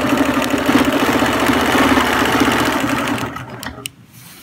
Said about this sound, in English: Stitch till I can, stop with my needle down, and then move my hand to the opposite side.